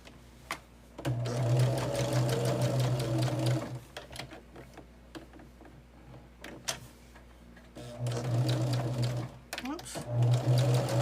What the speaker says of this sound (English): So I'm sewing on either side of the line that I drew a 1/4 inch.